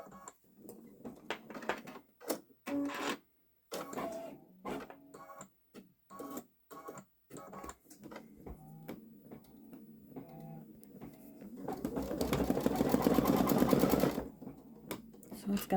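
A Baby Lock Solaris Vision embroidery machine stitches a large design. Its mechanical whir comes in short bursts broken by talk, then runs steadily and louder for a couple of seconds near the end.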